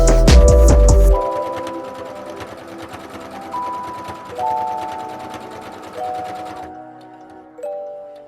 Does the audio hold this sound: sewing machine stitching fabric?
yes